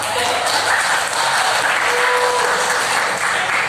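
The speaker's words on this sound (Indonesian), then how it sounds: "Aplaus dulu dong." A classroom or training audience breaks into steady applause, dense clapping that holds at an even, loud level throughout without any break.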